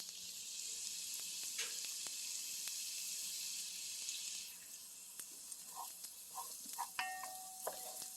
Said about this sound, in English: so those are starting to fry up.